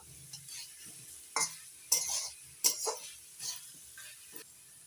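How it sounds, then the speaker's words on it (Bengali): Chopped tomatoes sauté in a pan for ghugni while a spoon stirs them, producing a quiet steady sizzle broken by several sharp scrapes and clinks against the pan, close up. "টমেটো কুচি দিয়ে আবারও কিছুক্ষণ কষিয়ে নেব"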